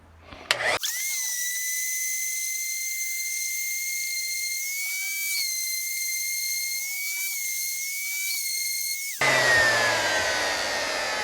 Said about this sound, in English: Now I'm going to a 120 grit on the orbital.